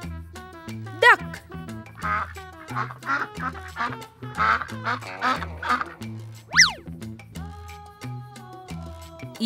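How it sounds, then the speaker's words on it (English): A duck quacks in a quick run of nasal calls over a light, bouncy backing tune. Cartoon boing effects come before and after, and the calls fade into sustained tones. "Duck."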